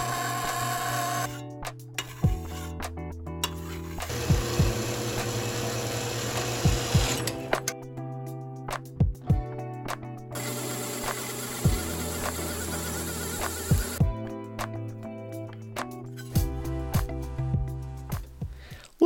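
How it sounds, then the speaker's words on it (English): Drilling and tapping holes in a military-style aluminum chassis for a 12AU7 tube stereo preamp, with bursts of whirring drill motor broken by short pauses, clicks and sharp knocks, close up and with no talking. "Drilling and tapping all the holes"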